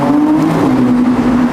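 A McLaren Artura Spider V6 engine hums at steady high revs, a brief loud drone up close with a slight pitch dip midway.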